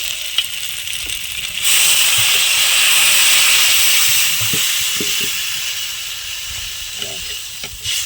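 Water poured into a pan of frying spiced curry sets off a sudden loud sizzling hiss that holds steady for several seconds, then slowly fades, with faint clinks and stirring underneath.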